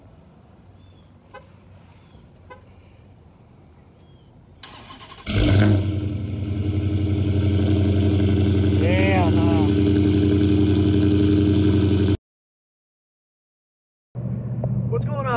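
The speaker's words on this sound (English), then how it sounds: "Let's give you guys a little cold start." A hot hatchback cold-starting after quiet shuffling: the engine catches with a sharp burst, flares loudly, then settles into a loud high idle with a brief chirp. It cuts out abruptly and the idle returns after a short gap.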